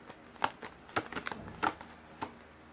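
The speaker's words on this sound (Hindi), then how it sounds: "2 निकालेंगे कार्ड्स" Tarot cards slide and snap softly as they are drawn from a deck, a few light papery flicks and rustles spaced out over a quiet background.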